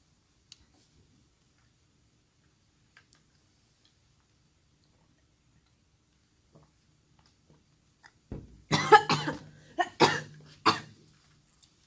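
After a long near-silence with faint ticks, a short run of several close, sharp coughs breaks out near the end.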